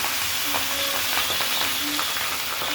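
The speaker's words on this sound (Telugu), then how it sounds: "ఇప్పుడు చేపల యొక్క ఫ్రై చేస్తున్నాము." Fish coated in salt, chili and coriander powder fries in a pan with a loud, steady close sizzle and occasional faint spatters.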